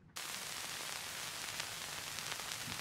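Steady broadband vinyl record static, a dense crackling hiss with scattered pops that starts abruptly and holds at an even, close level throughout with no other sounds.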